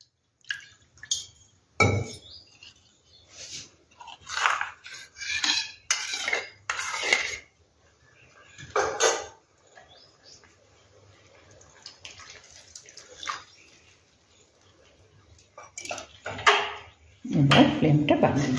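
Water is added to a pan of mustard-paste curry with freshwater amudi fish, Bengali style, amid clinks of a spoon and utensils on metal, with intermittent splashing and soft kitchen clatter nearby.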